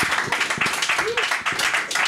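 Comedy club audience claps between acts in a quick, ragged patter of many hands, fairly close and sustained, while an announcer's voice carries over the applause.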